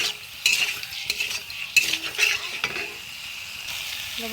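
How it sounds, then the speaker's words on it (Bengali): Ginger garlic onion paste fried with chilli and cumin powder gets stirred in a pan, with a spoon scraping in uneven strokes over a steady sizzle, close and clear. "আর দিয়ে দিয়েছি মরিচ আর জিরা গুঁড়ো দিয়ে আমি আবারও নাড়াচাড়া করে নেব।"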